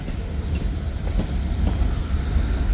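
A freight train locomotive idling outdoors in hot weather, a steady deep rumbling drone with continuous low-end throb and faint wind noise, close and unbroken with no talk.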